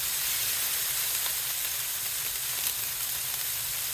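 Steaks sear in butter in a hot pan, giving a loud, steady sizzle and frying hiss up close throughout, with no speech.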